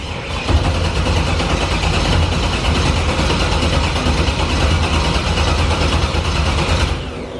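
A 500-horsepower drift car's engine idles steadily while warming up at a low, even rumble, close by and loud, with no voices, fading slightly at the end.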